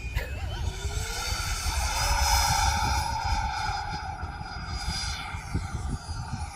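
A Freewing F-22 90mm electric ducted-fan RC jet spools up with a rising, whining turbine-like howl that swells loudly, then holds and slowly eases off as it climbs away, its pitch gliding and shifting as it passes.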